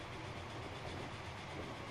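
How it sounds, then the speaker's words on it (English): A German train running in the Transport Fever game, a low, continuous rumbling drone with a faint, even engine hum throughout two seconds. "Our German train getting in last there."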